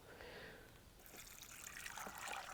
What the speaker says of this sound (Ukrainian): злили гарячу і залили натомість холодну